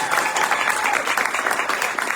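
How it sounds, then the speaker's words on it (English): Panelists on a Latinx identities panel receive strong, sustained applause from an audience, a loud continuous roar of many hands clapping close by with no voices over it. "please help me with a round of applause for this amazing people."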